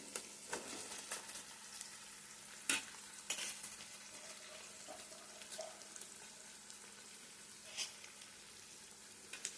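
Green chillies and onions fry in oil for a special fish fry, giving a soft, continuous sizzle with intermittent scrapes and clinks of a spoon stirring the pan, fairly quiet and without talk.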